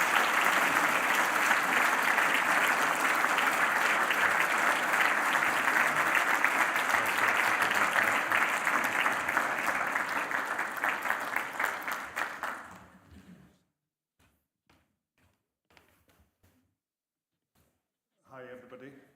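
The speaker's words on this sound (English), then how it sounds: "Let's all give him a big round of applause as he comes up." An audience at a conference gives a speaker a long, loud round of applause that fades out after about thirteen seconds, followed by near silence and a brief voice at the end.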